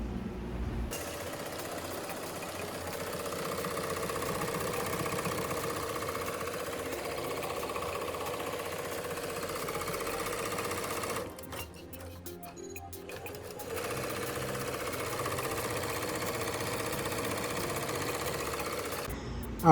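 An embroidery machine stitching a design onto a leather bag runs with a steady, fast mechanical chatter at moderate volume, briefly changing character midway before the even whirring resumes; no talking.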